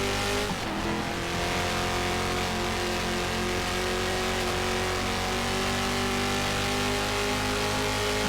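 Race car engine in the GTR2 racing video game, a steady loud drone holding high revs throughout with a brief dip early on, heard alone without talk.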